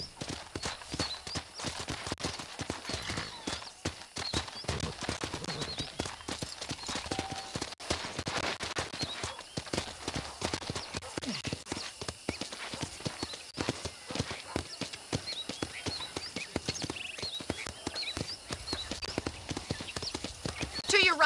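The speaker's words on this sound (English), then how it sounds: "let's see if you can still ride a horse" Horse hooves clip-clop in a steady trotting rhythm while riding in the video game Red Dead Redemption, fairly quiet and continuous, with a brief whinny and game dialogue voices now and then.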